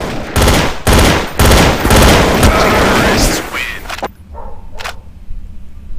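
Rapid 9x19 pistol fire from Counter-Strike: Source, several loud sharp shot bursts with ringing tails over the first four seconds, then a quieter stretch with one more faint crack.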